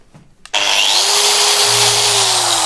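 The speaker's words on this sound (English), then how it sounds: "The pre-polishing disc is a unitized wheel that will refine the scratches I made on that." A TYROLIT unitized pre-polishing wheel disc refines scratches on a workpiece. After a brief quiet moment, the tool spins up abruptly into a loud, steady, close whirring grind whose pitch climbs slightly and then holds.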